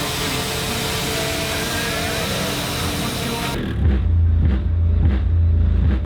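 LS2-engined 1950s delivery sedan at a car show, a steady loud wash of noise giving way to a deep, close rumbling exhaust that pulses through several revs.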